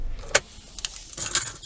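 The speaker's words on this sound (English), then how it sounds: "when you stop the engine and remove the key from the ignition" Car keys jingle in short metallic bursts as the key is pulled from the ignition of a parked car with the engine stopped, close and alone.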